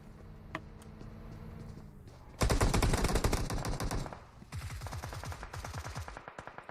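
Gunfire in a competitive online shooter match, with an isolated shot and then a dense burst of rapid automatic fire, followed by a steadier rattling volley that thins out toward the end.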